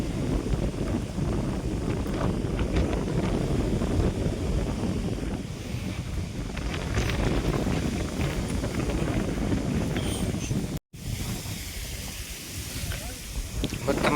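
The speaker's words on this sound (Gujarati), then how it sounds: "પવન બહુ છે ને" Strong wind buffets the microphone continuously across an open cumin field, a loud, broadband roar that gusts and swells throughout, briefly cutting out for a moment near the end before resuming.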